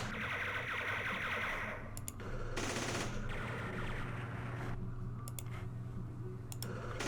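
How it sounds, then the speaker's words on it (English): Machine gun fire in the Vietnam-era strategy game Campaign Series Vietnam plays as dense, rattling bursts over a steady low background hum, with sharp clicking ticks scattered between the volleys. "So let's do a direct fire, maybe at the machine gun."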